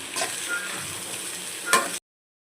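Small cut potato pieces fry in a pan for masala dosa, a soft, steady sizzle with one brief louder stir or clatter near the end before it cuts off.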